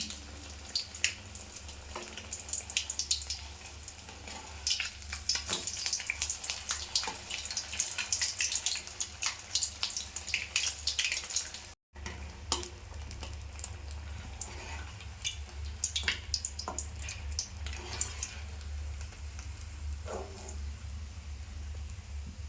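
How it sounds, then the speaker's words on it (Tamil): Fish pieces fry in hot oil with a steady, soft sizzling crackle that hisses continuously throughout, interrupted only by one brief drop-out. "இதே போலவே எல்லா மீன் துண்டுகளையும் போட்டு பொரித்து எடுத்துக்கலாம்."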